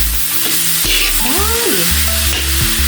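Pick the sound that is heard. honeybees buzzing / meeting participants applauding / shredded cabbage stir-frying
shredded cabbage stir-frying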